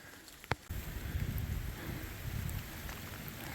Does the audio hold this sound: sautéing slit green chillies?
no